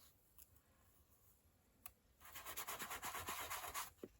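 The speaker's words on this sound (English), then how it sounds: "I got my sanding block" Sanding block rubbing briskly over a steampunk craft board, quiet at first with a couple of light taps, then a rapid run of close, rhythmic scratchy strokes for about two seconds.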